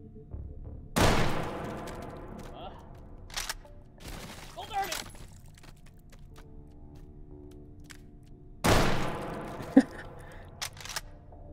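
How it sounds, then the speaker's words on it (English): Bolt-action rifle in the VR shooter H3VR: two sharp, loud gunshots several seconds apart, each followed by mechanical clicks and clacks of the bolt being worked during reloading. "using a bolt action reload"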